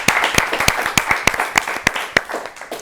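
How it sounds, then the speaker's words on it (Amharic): An audience applauds contestants at a children's quiz competition, with sharp, irregular claps on a steady bed of clapping that gradually thins toward the end. "አጨብጭቡላቸው ድጋሚ ለሁለት"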